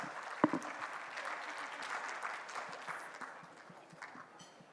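Audience applause at a live talk event featuring Deepika Padukone, a steady, moderately faint clapping that builds and then thins out, with scattered individual claps over the crowd.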